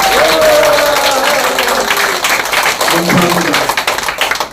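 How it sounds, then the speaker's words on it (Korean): An audience at a political party anniversary event claps in welcome, a full burst of applause that stays loud and gradually thins out, with a voice speaking over it at the start. "박수로 환영부터"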